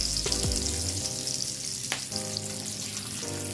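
Cabbage frying in rendered bacon grease for Southern fried cabbage with sausage and bacon, a dense, steady sizzle that stays loud and close throughout, with a few brief clinks near the start.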